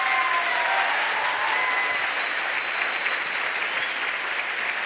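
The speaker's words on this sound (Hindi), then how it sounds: "अपने लिए ताली बजानी है" A seminar audience at an RCM business plan talk claps steadily and densely for the whole stretch, a loud, even wash of applause with no speech over it.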